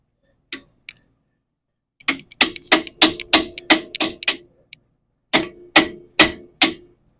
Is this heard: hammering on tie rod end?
yes